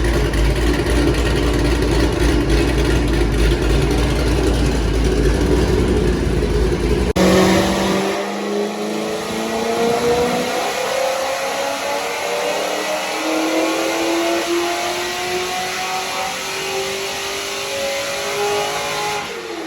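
A Corvette drift car running a burnt LQ4 V8 revs hard on a dyno, a steady loud roar that cuts sharply, then sweeps up through the gears in long rising pulls, close and alone.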